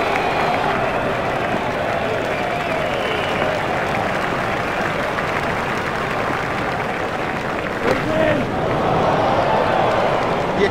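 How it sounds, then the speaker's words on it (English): Steady crowd applause and cheering from a cricket stadium in EA Sports Cricket 07 during an Ashes first Test in Australia, a broad continuous wash of clapping that swells slightly near the end, with commentary voices underneath. "He deserves the applause from the crowd today"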